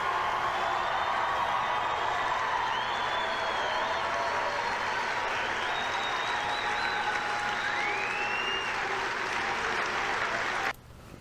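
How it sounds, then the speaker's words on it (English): Loud, sustained crowd applause fills a large venue at a political speech by President Trump, steady clapping and cheering that holds for about eleven seconds before cutting off abruptly. "You hear the applause."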